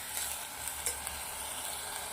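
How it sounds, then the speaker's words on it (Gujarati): Rice sautéing in a pot with onion, potato and whole masoor lentils for pulao, a quiet steady sizzle with faint stirring scrapes, no talking. "ભાતને સંતળાવા દેવાના છે."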